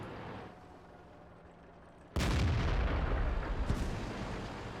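A single heavy tank cannon blast in the game World of Tanks, a sudden loud boom that cuts in after quieter engine rumble and rolls on with a long reverberant tail.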